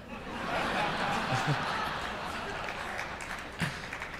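Light, scattered audience applause at a civic speech by a city mayor, thin clapping mixed with chuckles and murmurs from the crowd, moderately loud throughout.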